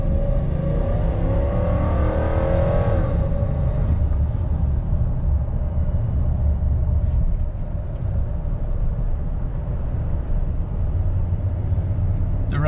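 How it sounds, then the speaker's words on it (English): A 2002 Toyota Tundra V8 pickup accelerates from a dead stop, its engine note climbing loudly for a few seconds before settling into a steadier cruising drone with road noise. "let's do a pull from a dead stop, just to show you what the off the line is"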